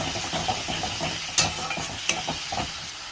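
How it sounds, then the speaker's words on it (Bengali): Spice masala frying in a pan before chicken goes in, a steady close sizzle with scattered scraping stir knocks, a couple of sharper clinks standing out. "মশলাটা একটু ভাজা ভাজা হয়ে গেলে, কষানো হয়ে গেলে ওই মাংসগুলো ঢেলে দিব"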